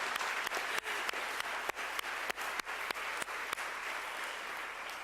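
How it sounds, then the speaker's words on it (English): A crowd applauds at an awards induction ceremony for the Georgia Women of Achievement Hall of Fame, a steady wash of clapping with a few sharp, distinct nearby claps standing out, moderately quiet overall. "Let's give everybody a round of applause."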